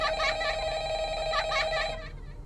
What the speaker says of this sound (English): Okay, I missed the phone call.